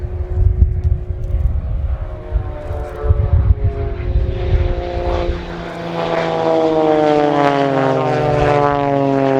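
Propeller aerobatic planes of the Blades display team fly in at a RIAT airshow, first as a distant rumble. The engine drone then swells into a loud, sweeping pass with a clear pitch drop as they cross.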